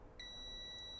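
A multimeter gives a continuity beep while a cell phone component is tested during phone repair: a single steady, high electronic tone that starts shortly in and holds to the end over faint background hiss.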